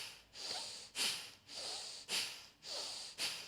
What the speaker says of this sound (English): begin to quicken. Build a little bit more power behind that breath.